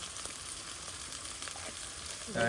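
Onion and garlic sizzle steadily in hot oil in a pan, a dense continuous frying hiss that swells louder near the end as more is added or stirred.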